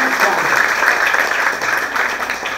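An audience at a regional school competition final in Comarca Guna Yala applauds the 12 finalists in a dense, loud burst of clapping that holds steady for the whole moment.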